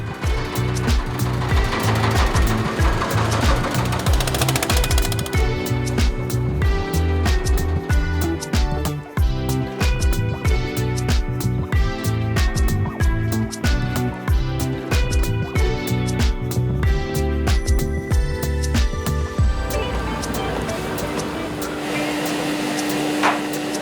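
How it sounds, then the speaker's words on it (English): A machine turns salted rice into puffed rice in a Bangladeshi town. It runs loud and close with a continuous mechanical whir and a fast, rhythmic clattering pulse that carries on throughout. "This is rice that's being dried with salt, and it goes in this machine."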